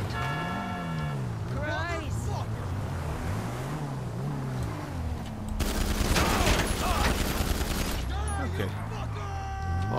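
Gunfire bursts in GTA 5 Online, with rapid shots and booming effects mixed with engine and game noise, while a voice talks over much of the action.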